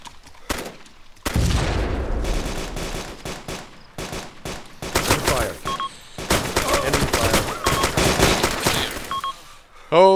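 Airsoft guns crack in short volleys and scattered single shots during a skirmish along a castle wall, some close and sharp, others farther off, with faint voices between bursts.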